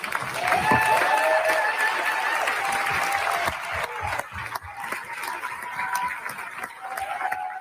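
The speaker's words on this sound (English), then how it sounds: "I'd love for everyone to stand up just so we can give you a round of applause" An audience at a conference on UAP studies gives a standing round of applause for the film's participants, a sustained, even wash of clapping with faint crowd murmur and a few voices underneath.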